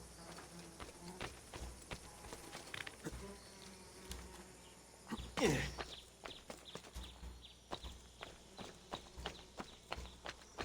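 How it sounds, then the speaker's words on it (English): Crickets chirp steadily in the background of Assassin's Creed II, a thin continuous trill mixed with frequent clicks and footstep-like taps, with one brief louder rushing sweep near the middle. "Maybe that was just the crickets."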